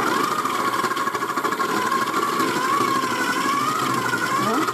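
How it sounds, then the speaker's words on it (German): Electric kitchen grater shredding vegetables for homemade salted vegetable broth base, a steady loud machine drone with a whining mid-range tone and buzzing vibration, running continuously without pause. "wie das Gemüse hier geraffelt wird, weil die Maschine macht Krach."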